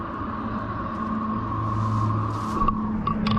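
A large aircraft flying overhead outdoors in wooded country, a steady low rumbling drone that swells slightly, with brief rustling noises close by.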